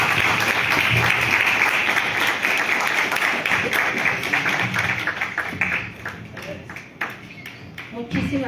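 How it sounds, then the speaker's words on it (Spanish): Audience applause at a conference on electoral justice in Mexico City, a dense, sustained clapping crowd that stays loud for several seconds, then thins into scattered claps with faint voices underneath. "Un fuerte aplauso para todos."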